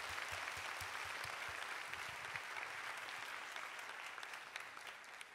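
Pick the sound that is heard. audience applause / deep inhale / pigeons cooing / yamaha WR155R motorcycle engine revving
audience applause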